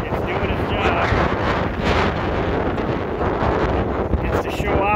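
Strong spring wind gusting through a garden with willows and redbuds, roaring steadily into the microphone as continuous loud buffeting that masks nearly everything else.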